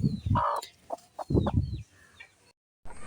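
Parent stock chickens in a pen clucking close by in short, uneven bursts, a few sharper calls mixed in, then a brief silence before more clucking.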